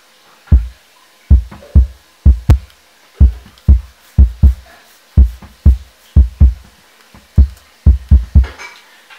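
A soft, thumping kick drum repeats in a steady rhythm, compressed to remove its attack, each hit rounded and dull with no sharp click at the start, playing alone.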